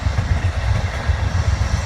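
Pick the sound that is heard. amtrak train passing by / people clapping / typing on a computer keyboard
amtrak train passing by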